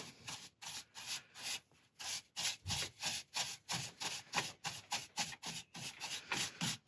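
Shellac being rubbed into a turned wooden piece spinning on a lathe, a close, steady series of rhythmic rasping strokes with no speech.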